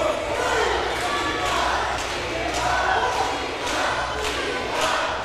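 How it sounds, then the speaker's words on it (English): A wrestling arena crowd roars and cheers continuously throughout, loud and dense, with commentary voices running beneath the steady noise. "Everybody is cheering for Eli right now."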